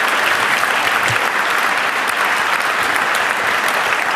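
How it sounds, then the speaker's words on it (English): An audience gives speaker James Bridle a warm round of applause, loud and continuous clapping from a large crowd, steady and unbroken throughout. "give him a warm round of applause"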